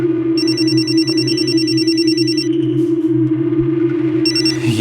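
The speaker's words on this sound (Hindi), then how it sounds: "ये दोपहर से चौथी बार फोन कर रही है" A telephone rings with a bright, repeating electronic trill in two bursts over a steady low hum, loud and close, with no talk.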